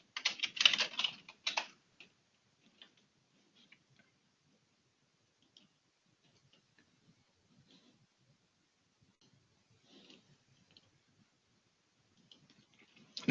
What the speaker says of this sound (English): you can start typing something new.